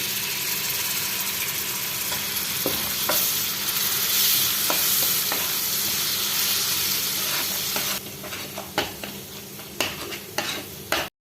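Fish pickle masala of chilli powder and fenugreek powder being stirred in a pan with vinegar for a netholi (anchovy) pickle, giving a steady close sizzle and scraping stir with sporadic spoon clicks, quieter scrapes toward the end.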